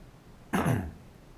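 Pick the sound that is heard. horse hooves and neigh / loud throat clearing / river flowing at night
loud throat clearing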